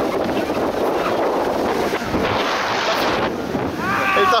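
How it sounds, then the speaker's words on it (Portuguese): Strong wind buffets the microphone on a beach, a loud continuous roar with steady rumble, and faint surf behind it. A person speaks briefly underneath. "Eu sei que tá muito vento, mas eu tô tentando amenizar, botar na mão."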